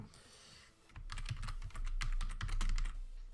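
Rapid typing on a computer keyboard, a quick irregular run of close, crisp key clicks that grows busier after the first second and carries on to the end, with no talk.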